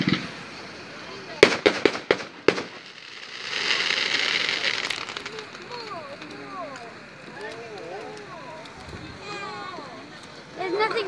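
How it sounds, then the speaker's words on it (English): Fireworks burst outdoors near a bonfire, with a rapid string of sharp cracks and bangs, then a hissing crackle. Whistling, warbling rockets follow while people talk in the background, and a few more pops come at the end. "now I'm just going to let the fireworks do what they got to do"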